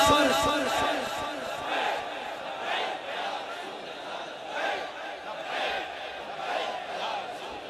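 A large crowd at a religious rally in Khanewal chants the slogan "Labbaik Ya Rasool Allah" in rhythmic, swelling waves of massed voices, loud and reverberant, surging several times over the span.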